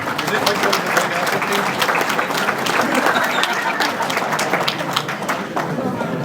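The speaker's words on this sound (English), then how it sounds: "Another round of applause, ladies and gentlemen" A banquet crowd at the Ransomville Speedway 2024 awards night bursts into loud, sustained applause. Dense clapping fills the room evenly throughout, with some voices mixed in.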